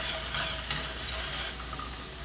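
Brandy reduces in a hot pan for a bistro-style brandy cream steak sauce, giving a steady, close, fairly loud broadband sizzle with faint stirring that runs unbroken for a couple of seconds.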